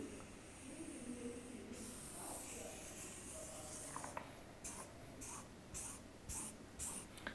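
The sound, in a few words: pen writing on a surface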